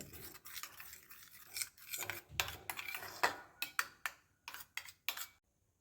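Spoon clinking and scraping against a bowl while pizza topping, sauce and mayonnaise are stirred together for a bun burger, a run of sharp close taps and scrapes growing more distinct toward the end, no talking.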